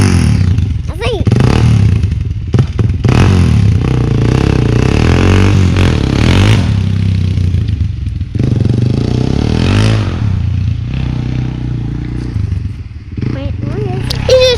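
A Kawasaki KFX400 quad being test driven after new Tusk nerf bars are fitted, its engine loud and rising and falling with clatter and scraping bumps, while people talk nearby over it.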